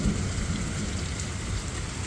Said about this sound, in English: Look at the rain on the road.